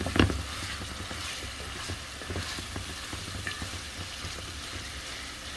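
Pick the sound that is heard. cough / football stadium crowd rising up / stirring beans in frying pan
stirring beans in frying pan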